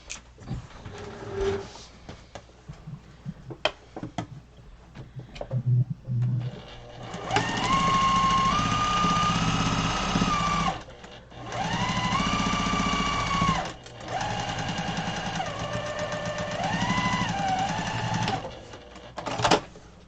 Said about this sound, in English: And you can sew right along, minding your business.